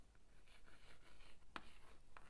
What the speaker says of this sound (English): So I will write